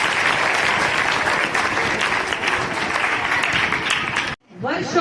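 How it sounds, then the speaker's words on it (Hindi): A crowd gives loud, sustained applause to welcome a speaker at a Hindi poetry recitation, with many hands clapping close by. The clapping cuts off and a voice begins speaking. "जोरदार तालियों से स्वागत कीजिएगा"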